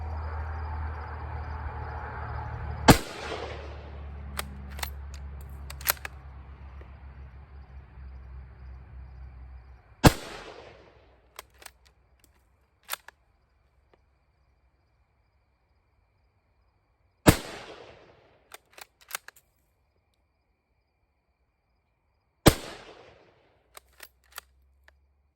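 Four sharp, loud 8mm rifle shots from a Yugoslavian rifle firing German SMK ammunition, spaced several seconds apart, each followed by faint clicks and clatter of the action, after a steady low rumble fades out.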